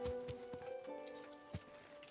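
A horse gallops in Kingdom Come: Deliverance, its hooves producing a quick, rhythmic clip-clop that repeats evenly and sits near and moderately loud over a faint, steady background hum.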